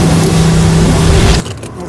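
A $30 million car being pushed hard, its loud engine droning with a steady hum before cutting out abruptly as it stalls, leaving quieter background sound.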